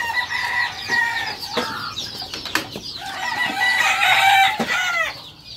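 Chicks and chickens cluck and chatter close by in the pen where chicks are kept after hatching, with busy overlapping calls and a louder flurry of clucking near the end.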